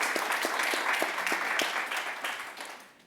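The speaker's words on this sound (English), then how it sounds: "Can we give teachers a big clap, please?" Audience at a spotlight event with Sir Mo Farah clapping for teachers, a full steady round of applause with some sharper individual claps, loud and close, tapering off toward the end.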